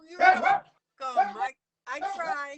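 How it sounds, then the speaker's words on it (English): A pet dog barks and yips indoors in a short run of three bursts, mixed in with a woman's speech. "Sorry, that's my dog."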